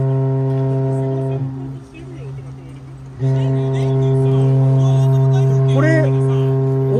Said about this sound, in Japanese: 汽笛かこれ。